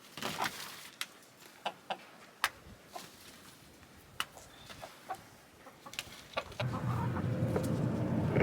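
Backyard chickens cluck in short, scattered calls at moderate distance, with a rising rustle or wind-like noise building toward the end.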